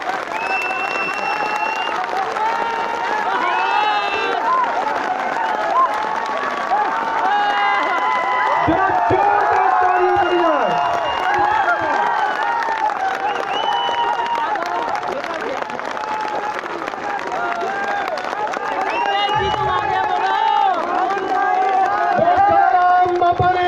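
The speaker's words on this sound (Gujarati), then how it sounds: "જોરથી તાળીઓ પડવી જોઈએ" Large rally crowd clapping loudly and cheering in a village gathering, a dense continuous roar of applause with scattered whoops, steady and sustained throughout.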